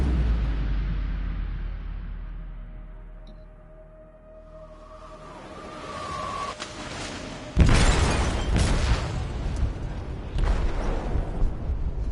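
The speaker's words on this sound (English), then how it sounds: "They detonated an explosive in the hold." An explosive detonates in a ship's hold in Detroit: Become Human, a sudden heavy boom after a quiet, low rumbling stretch, followed by crackling debris and rolling blast noise.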